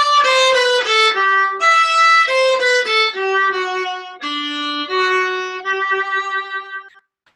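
A viola plays the third fragment of a minuet with open strings and second and third fingers, a clear stepwise run of about a dozen bowed notes at moderate loudness, alone and ending after seven seconds.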